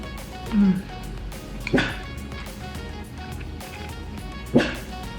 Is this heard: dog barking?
yes